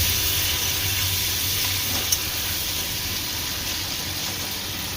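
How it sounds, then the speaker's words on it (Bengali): Pointed gourd frying in oil, a constant soft hiss and sizzle with a low hum underneath, steady and close with one brief click, no talk. "এবার এই তেলে পটল ভেজে নেব"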